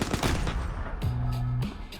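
An M60 machine gun fires in a powder-ignition test, a rapid, loud, close burst of sharp shots over the first second, then a ringing echo with a steady low tone that decays away.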